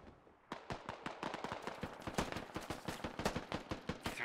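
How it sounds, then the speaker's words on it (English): Rapid gunfire in the SquadOps military shooter game, a sustained burst of closely spaced sharp shots after a brief quiet start, moderately loud with no talk over it. "We are taking fire from the point actual, returning."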